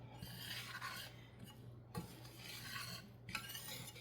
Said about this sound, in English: and stirring it on the fire until it browns